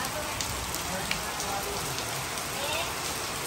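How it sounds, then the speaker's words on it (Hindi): Heavy rain pouring down during a thunderstorm on a farm, a dense steady hiss of drops hitting surfaces, loud and continuous with no pauses. "बहुत ही अच्छी बारिश कंटिन्यू"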